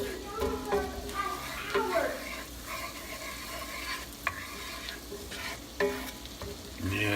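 Seasoning is stirred into a pan of sizzling food for a sous vide steak meal, with a utensil scraping and clinking against the pan over a steady close frying hiss while a person talks.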